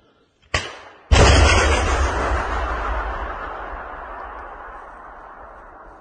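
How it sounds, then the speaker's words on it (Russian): A Stugna anti-tank missile fires at a Russian column: a short sharp crack, then a second, much louder blast that booms and slowly rolls away over several seconds, loud and close. "Внимание, выстрел."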